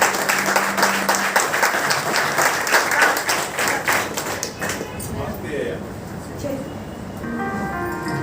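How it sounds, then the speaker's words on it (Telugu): An audience claps at a champions day celebration held by an academy in Vijayawada: dense, rapid applause for several seconds that thins out and fades, with voices over the top. "క్లాప్స్ ఇవ్వండి సార్."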